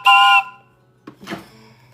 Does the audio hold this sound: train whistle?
yes